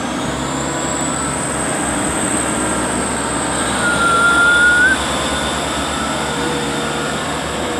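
A super HST express train runs straight through a station at speed, giving a loud, sustained rumbling roar with a rising whine and a brief horn-like tone partway through.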